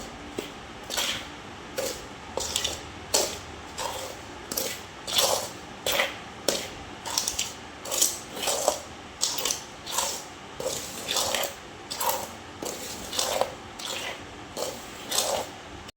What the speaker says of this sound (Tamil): நாங்கள் கலப்போம் எல்லாத்தையும் சேர்த்து